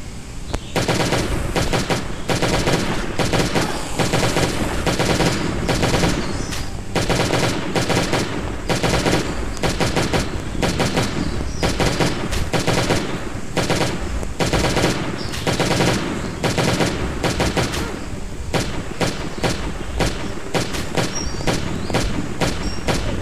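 Dense, continuous automatic gunfire from the zombie survival game Last Day on Earth: Survival, loud, rapid bursts running almost nonstop through the whole stretch with no talk over it.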